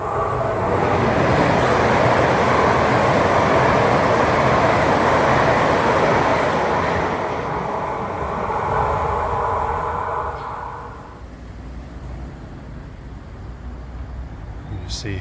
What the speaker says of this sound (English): Got a train coming along here.